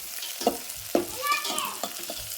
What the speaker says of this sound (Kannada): ಉಳ್ಳಾಗಡ್ಡಿ ಬದ್ನೆಕಾಯಿ ಮೆಣಸಿನ್ಕಾಯಿ ಇವೆಲ್ಲ ಮಸ್ತನೇ ಫ್ರೈ ಆಗಬೇಕು ರೀ